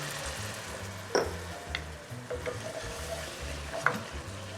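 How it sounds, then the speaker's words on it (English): A hot pan deglazed while chicken and creole tomatoes cook, giving a soft ongoing sizzle with a few light clinks of a utensil, fairly quiet and close. "let me deglaze with a little bit of this"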